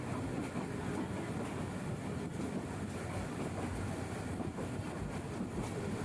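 Seen from the Dhaka to Chattogram line running beside a highway, a moving train produces a faint, steady rumble with soft rhythmic rattling, continuous throughout and without voices.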